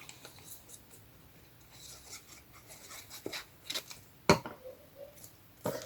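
Scissors cutting through card stock while making a skinny handmade card, heard as a few sharp, close snips and rasping cuts spaced irregularly over quiet handling noise, with the loudest snips near the end.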